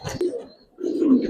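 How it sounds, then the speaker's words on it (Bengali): A red-geared female pigeon gives two short, low coos close by, the first brief and the second longer after a pause. "মাদিরা অনেক সুন্দর একটা কবুতর।"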